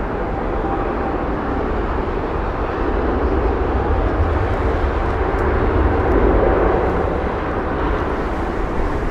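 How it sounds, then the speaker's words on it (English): An American Airlines Boeing 777-200 jet bound for Charlotte roars steadily at Heathrow Airport, a loud, continuous engine rumble swelling slightly midway, with no talk over it. "This is the Charlotte flight, 777-200."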